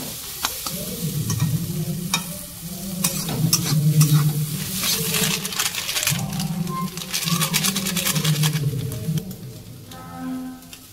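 Eggs fry in a pan with chicken curry masala, a soft continuous sizzle under repeated rhythmic stirring and scraping of a spatula, close and moderately loud.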